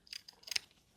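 Scissors cutting paper around a template, two quick faint snips close up in a quiet room.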